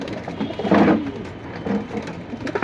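Pigeons of a high-flying breed coo softly at close range in a few low murmuring bursts. No voices are heard.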